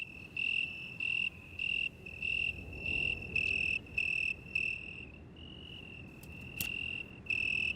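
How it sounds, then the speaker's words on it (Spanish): Crickets chirp at night in steady, evenly spaced pulses, a shrill repeated trill over a soft low background hum, loud and close. "El canto de los grillos inunda la noche."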